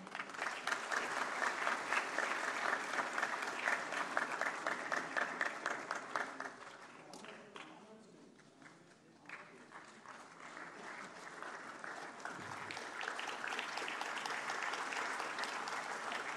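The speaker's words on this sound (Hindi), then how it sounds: "जोरदार तालियों से इनकी हौसला अफजाई कीजिए।" Sustained audience applause at a national award ceremony for the empowerment of persons with disabilities, a large hall crowd clapping steadily, dipping briefly midway before swelling again.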